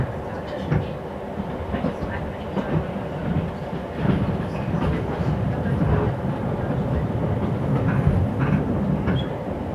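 Steady rumble and clatter of a passenger train riding on rails near Samedan, Switzerland, a continuous broadband rolling noise with faint irregular knocks throughout, fairly close and without speech.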